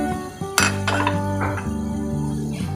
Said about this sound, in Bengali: ভালোভাবে নেড়ে নেব মশলাটা।